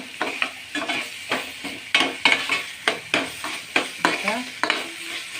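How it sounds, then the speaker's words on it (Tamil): Vegetables with masala are tossed and stirred in a hot pan for noodles, giving a steady sizzle broken by rhythmic scraping strokes about every half second, close and alone. "அதுக்கு நான் காய்கறியோடு நல்லா மிக்ஸ் பண்ணியாச்சு."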